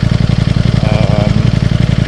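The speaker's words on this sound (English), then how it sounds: "It's pretty much the same as the OEM exhaust. It is a deeper, bassier sound." A Ducati Streetfighter V4S with an aftermarket exhaust putters at low speed in rush-hour traffic, a deep, bassy, rapidly pulsing engine note that stays steady and close throughout, with a voice talking faintly over it.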